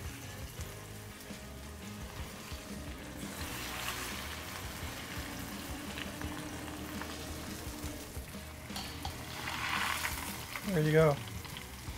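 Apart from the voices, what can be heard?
burger frying in oil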